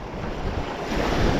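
Strong ocean waves surge and rush at sea, a loud continuous wash mixed with wind buffeting the microphone, with no voices.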